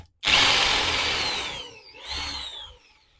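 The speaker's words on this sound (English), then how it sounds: "I'll just drill this bigger hole." A power drill bores a larger hole during wiring work on a model railway layout, a loud whining burst that starts abruptly, fades, dips briefly and surges again before trailing off, with no voices.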